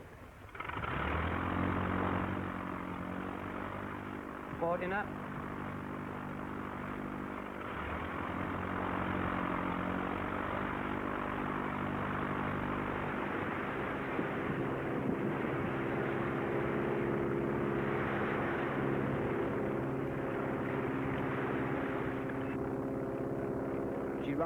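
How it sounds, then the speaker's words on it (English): Propeller engines of a 1940 flying boat are run up one by one before departure, a loud, droning roar that swells as each engine joins, with a brief spoken call near the start. "One by one, the engines are revved up as the plane prepares to leave."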